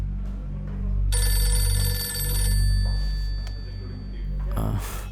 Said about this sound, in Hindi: ये रिंगटोन मुझे चाहिए